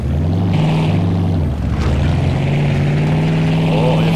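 A car engine in the video game Mafia II burbles and revs steadily with a loud, low, droning tone, dipping briefly before it picks up again. No voices are heard.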